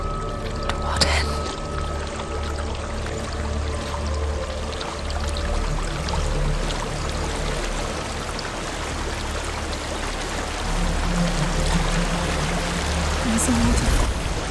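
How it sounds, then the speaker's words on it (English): A waterfall in Hellblade: Senua's Sacrifice rushes as a loud, continuous broadband roar with a few faint tonal layers above it, holding steady across the whole stretch. "There's a waterfall."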